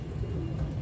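A pigeon kept at home gives a soft, low coo close by, heard as a brief continuous murmur.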